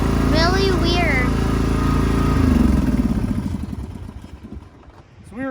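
Craftsman riding lawn mower engine running steadily nearby, its low throbbing rumble fading slightly toward the end, with someone talking over it early on.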